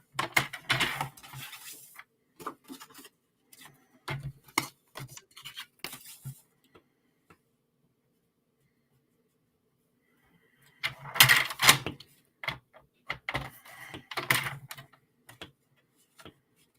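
Cardstock is cut on a paper trimmer for a handmade fan card in short scraping and clicking bursts, close and fairly quiet, with a long silent gap in the middle before more cutting strokes.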